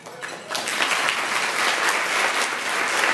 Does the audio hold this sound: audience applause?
yes